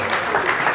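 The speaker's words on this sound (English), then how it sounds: "Let's give him another round of applause" A crowd at a Miami gala event applauds an honoree, a brief, dense, steady patter of clapping filling the room.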